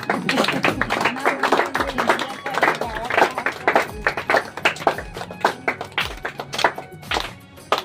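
Family members clap at a home gathering, an irregular run of sharp, close hand claps under ongoing chatter and voices, with some thumps mixed in.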